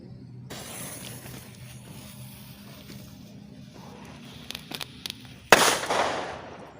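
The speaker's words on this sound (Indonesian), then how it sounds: "petasan rainbow stick warna pink" A pink rainbow stick firecracker is set off outdoors. A few small pops lead into a sharp, loud burst, followed by a crackling, fizzing spray that slowly fades.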